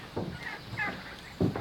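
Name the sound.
turkeys gobbling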